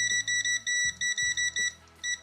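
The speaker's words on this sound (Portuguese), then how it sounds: "Tocou e já dá o bip." A Venlab WG5000A multimeter sounds its continuity tester, giving a run of loud, shrill electronic beeps in quick, slightly uneven pulses as the probes touch, with a few short dropouts between tones.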